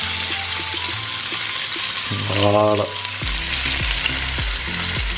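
Chicken sizzles in olive oil in a very hot pan for a Hawaiian-style pineapple dish with chicken and shrimp, a steady, close crackle throughout with occasional stirring and a brief spoken word.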